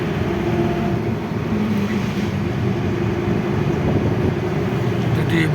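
Traffic on the Delhi highway rolls past in a constant, loud roar of engines and tyres, a steady wash of road noise with no breaks across the whole stretch.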